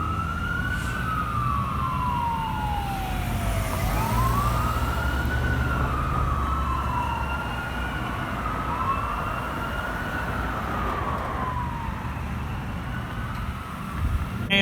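Tampa Fire Rescue Engine 14 and Rescue 14 respond with wailing sirens that sweep up and down repeatedly, heard from a moderate distance over low road rumble.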